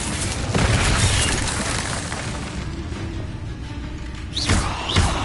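Incendio fire spells in a Harry Potter video game sound as heavy booming flame bursts. A loud, roaring blast fades away, then two more sharp impacts follow near the end.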